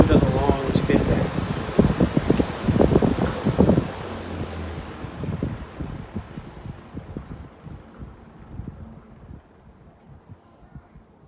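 An old 1970s green electric fan spins down after running on high, its whirring hum and airy rush fading gradually over several seconds, with some speech early on.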